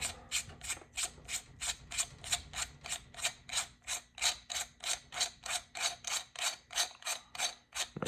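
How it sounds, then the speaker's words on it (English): Castle nut threaded onto an AR10 buffer tube, giving a steady run of about twenty close, crisp ratcheting clicks at an even rhythm over a faint background hum. "Taking our buffer tube, we're going to thread the castle nut"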